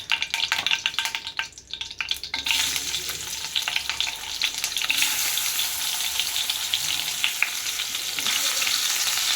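Fish frying in a kadai in a home kitchen, a steady broadband sizzle that swells louder after a brief quieter dip, close and continuous with no talking.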